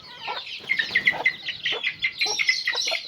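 Two-week-old chicks on a farm cluck and cheep continuously at close range, with no talking.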